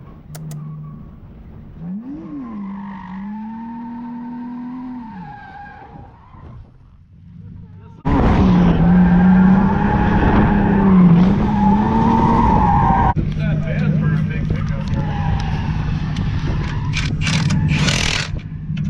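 A BMW E46 drifting, engine droning and climbing at first, then a loud burst of tire squeal and rough engine roar as the car slides and runs off the track, continuing close and sustained to the end.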